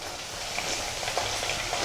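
Coconut pieces sautéing in a pan for a Malabar-style clam meat roast give off a steady, soft sizzle with faint stirring scrapes, close and alone.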